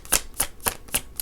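Oracle cards are shuffled by hand in a quick, even rhythm of about five crisp riffling snaps, close and clear with nothing else audible.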